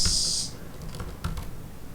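A few quick key taps sound on a computer keyboard during a tech talk demo, light scattered clicks close by over a faint room hum.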